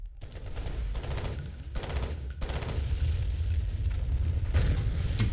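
Rapid automatic gunfire and explosions from the shooter video game F.E.A.R. Extraction Point, with dense bursts and booms rattling continuously throughout at moderate level.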